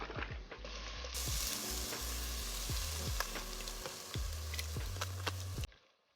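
Garlic frying in a pan for prawn spaghetti, a steady close sizzle with scraping stirs and small spatula knocks running through, cutting off near the end.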